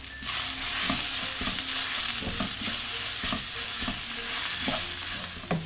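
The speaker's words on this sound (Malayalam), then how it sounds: "2 ടീസ്പൂൺ ഗരം മസാല പൊടിയും 2 ടീസ്പൂൺ മല്ലിപ്പൊടിയും 1 ടേബിൾ സ്പൂൺ കാശ്മീരി ചില്ലി പൗഡറും പാകത്തിനുള്ള ഉപ്പും ഇട്ട് ഇതൊന്ന് ഇളക്കി കൊടുക്കാം." Garam masala, coriander powder and Kashmiri chili powder stirred into a hot pan, a continuous loud sizzle punctuated by rhythmic spoon scrapes, no voices.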